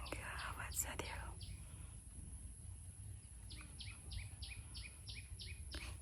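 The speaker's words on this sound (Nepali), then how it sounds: "चराचुरुङ्गीको आवाज" Birds chirp outdoors in a rapid series of short, bright calls in the second half, over a steady low rumble of wind or distant noise, with a soft breathy sound near the start.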